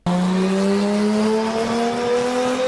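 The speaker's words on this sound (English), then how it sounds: "and the twin cam Toyota 2JZ." A twin cam Toyota 2JZ engine holds a steady, loud, close high-rev drone whose pitch creeps slowly upward for a few seconds, then cuts off abruptly, alone without talk.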